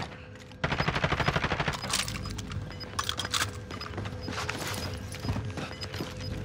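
Incoming gunfire in the video game Call of Duty Modern Warfare, a rapid machine-gun burst followed by scattered loud shots and bursts over a steady background hum.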